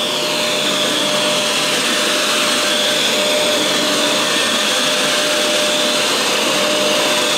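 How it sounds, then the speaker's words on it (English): A Fantom Wildcat vacuum cleaner runs steadily and loudly up close, with a constant broadband motor whine and airflow roar that never breaks across the whole stretch and has no talking over it. "So I might just do like a real quick vacuuming with it, rather than risking having something go wrong."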